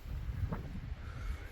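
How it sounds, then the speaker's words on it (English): Strong wind buffets a home garden in Mexico, a steady low rumble of gusts hitting the microphone, loud and continuous with no pauses. "But it is very windy today."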